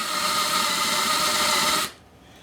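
A power drill spins a homemade countersink bit into wood, a steady close whine lasting under two seconds before cutting off abruptly.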